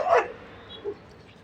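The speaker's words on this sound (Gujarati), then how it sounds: "આ કૂતરી છે એના ગલુડા છે" A mother dog with her puppies gives a single short, nearby bark or yip, followed by a quieter faint whimper.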